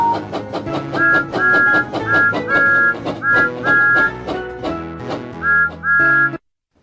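A bright, tonal train whistle in the Wii video game Thomas and Friends: Hero of the Rails sounds in repeated short and longer toots over a bouncy musical backing, then everything cuts off abruptly.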